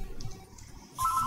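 A mobile phone ringtone starts near the end, a bright repeating electronic tone over faint workshop background noise, following a quieter stretch without speech.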